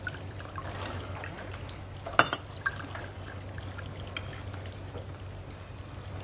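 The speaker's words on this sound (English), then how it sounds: "Somebody has to pour out the wine." Wine poured into a glass during an indoor scene of a 1966 television drama: one short, faint splash of liquid over a low, steady room hum, with no talk.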